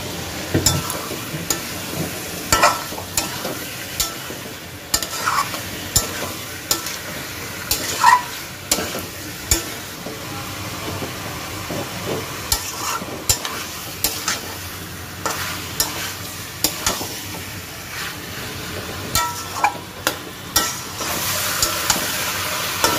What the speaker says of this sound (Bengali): এবার এই যে তেলটা ছেড়ে দিয়েছে, এর মধ্যে যে আলু ধুয়ে রেখেছিলাম এবার আলুটা দিয়ে দেব